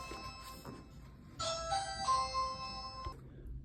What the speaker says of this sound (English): I had somebody ring my doorbell